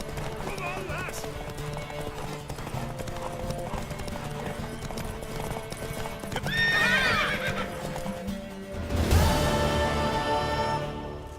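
Steady clip-clop of a mare's hooves in the video game The Witcher 3: Wild Hunt, under voices, followed by a loud horse whinny near the end, with background music throughout.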